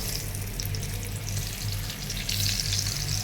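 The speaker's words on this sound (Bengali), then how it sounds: "ফ্রাই প্যানে তেল দিয়ে দিছি" Oil sizzling in a frying pan before vegetables go in, a loud close steady hiss over a low hum, with no talking.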